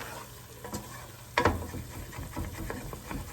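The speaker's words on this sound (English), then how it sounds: "So we'll let that simmer for another 5 minutes and check back" Onions deglazed with wine simmer in a home-kitchen pan for French onion soup, giving a low, steady sizzle with one sharp stirring scrape partway through and light clinks after, close and wordless.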